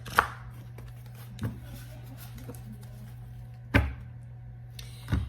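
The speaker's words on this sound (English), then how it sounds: "So I'm going to shuffle again before I do a split." Tarot cards handled and shuffled by hand during a love tarot reading, heard as four sparse, sharp taps and soft knocks spaced a second or two apart, close and fairly quiet, over a steady low electrical hum with no talking.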